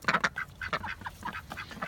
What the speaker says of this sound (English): I think obviously Bucko and that duck are definitely getting mated with because we got fertile eggs